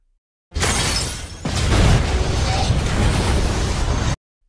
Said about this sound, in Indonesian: Bishop kemudian pergi menyelamatkan diri sebelum kapal itu meledak.